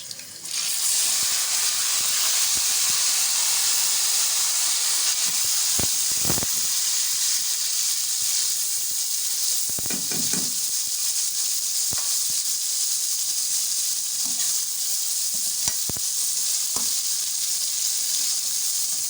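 Steady, loud sizzling of finely chopped tomatoes frying in a hot pan with garlic and green chilies, with a few soft clinks and stirring sounds, no talking.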